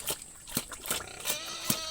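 A pig eating its feed, close wet chomping and slurping in a regular rhythm of bites about every third of a second.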